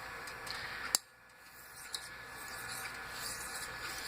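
A straight razor is drawn across a DMT 8000 grit diamond hone in a steady, soft scraping rub, with one sharp click near the start and a fainter tap later.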